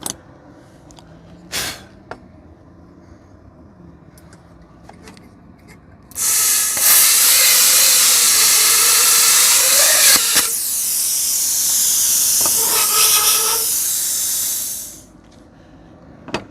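A Bestarc BTC500DP plasma cutter cuts through metal with a loud, steady roaring hiss that runs for about nine seconds, then stops abruptly, leaving faint background noise before and after.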